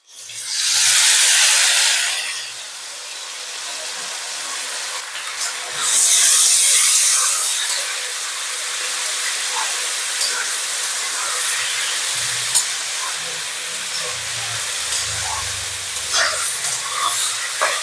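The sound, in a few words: banana flower and potatoes cooking in a pan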